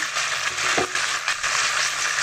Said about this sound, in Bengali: চিকেনটা ভালো করে উল্টিয়ে পাল্টিয়ে ভেজে নিয়েছি